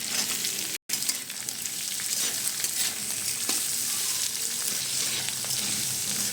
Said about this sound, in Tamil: கேரட் ஆட் பண்ணதுமே நம்ம ஒரு 2 to 3 மினிட்ஸ் வந்து இதை நல்லா ஃப்ரை பண்ணலாம்